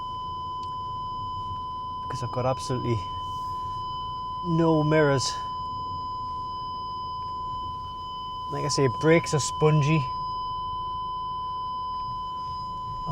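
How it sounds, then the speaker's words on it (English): An Audi A6 parking sensor gives a steady, continuous electronic tone that runs the whole time as a faint background beep, while someone talks in short bursts over it. "I'm hoping this beeping will go off."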